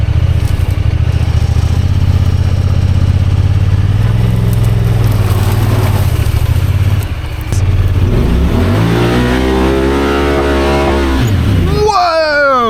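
A Honda Pioneer 1000 UTV with a 27.5% low gear reduction growls at low revs, then revs hard and climbs in pitch as it punches through a deep, nasty mud hole, loud and close, with a voice talking over parts of it.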